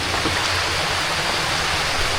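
Heavy rain pours steadily over a river during a fishing trip by paddled boat, a dense, loud, continuous hiss with no pauses and no talk.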